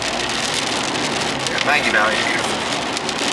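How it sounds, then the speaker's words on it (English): Steady rain hisses and patters on surfaces outside a vehicle on a cool fall day in the mountains of western North Carolina, a constant broadband wash under a person's nearby talking. "it's raining and I don't want to get wet"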